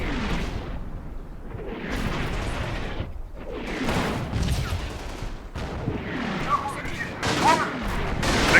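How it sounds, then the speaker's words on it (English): BAR rifle fire in the WWII war game Combat Mission, loud bursts of automatic gunfire rattling in waves amid distant booming artillery explosions. "I think I hear a BAR"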